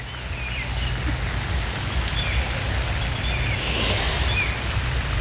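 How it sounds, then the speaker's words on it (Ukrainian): Birds singing outdoors in the evening beside flowering bushes, scattered faint chirps and short calls over a steady wash of wind or distant background noise. "Мам, чути пташок?"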